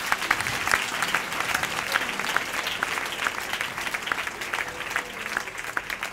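A church congregation breaks into steady, dense applause, a loud continuous wash of clapping with some crowd voices mixed in, sustained throughout.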